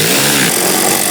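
A power tool runs in a brief, loud burst close by, snugging down the bolts on a new HVAC blower motor in a 2000-2007 Ford Focus, a harsh continuous whir with no talk.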